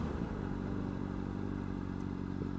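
A 2009 Honda CBR600RR motorcycle idles close by as it pulls over, a steady, low rumbling engine drone with a faint clattery edge and no voices.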